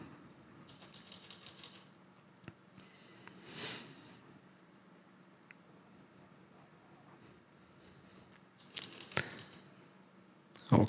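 A computer mouse clicked hurriedly during a ski resort tycoon game: faint, scattered clicks over a steady low hum, with a denser flurry of sharp clicks near the end.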